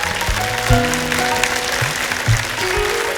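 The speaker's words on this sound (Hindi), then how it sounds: "आप सबकी तालियों के बीच इनवाइट करना चाहूंगा" A studio audience at a television comedy show applauds guests as they are welcomed, with steady, dense clapping throughout and music playing underneath.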